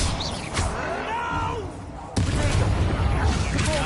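Bombarda explosion spell going off in the Hogwarts Legacy game, a loud sharp blast that jumps in over dense ongoing combat noise, with a voice heard over the action.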